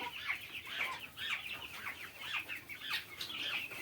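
Several chickens cluck in an overlapping flurry of short, bright calls throughout, moderately close with no voices.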